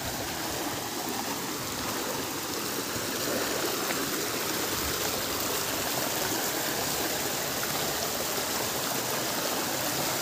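A mountain stream flows in a steady, continuous rush of water, close and moderately loud, with no voices.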